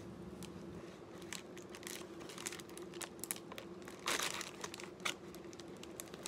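Crinkling and tearing of plastic mail packaging, close and quiet, with irregular crunches and rustles as someone struggles to open it.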